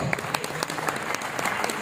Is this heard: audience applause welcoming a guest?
yes